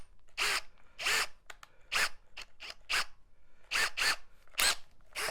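A power drill fitted with a regular drill bit bores in a run of short, whirring bursts, close and alone, each rising and stopping in quick succession.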